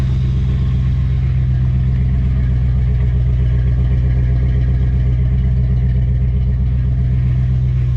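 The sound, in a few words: 1994 Chevrolet Caprice engine idling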